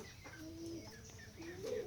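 Pigeons coo softly nearby at a pigeon breeder's in Keshabpur, Jessore, Bangladesh, a few low murmuring calls with faint background noise.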